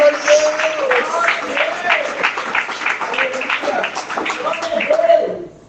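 Church congregation in Samambaia Sul breaks into sustained applause during a sermon, dense clapping from many hands with a voice sounding over it before the noise tapers off at the end.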